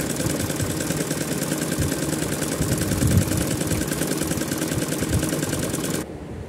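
Sewing machine running steadily while stitching a straight double seam on a petticoat, a dense continuous mechanical whir that stops abruptly near the end.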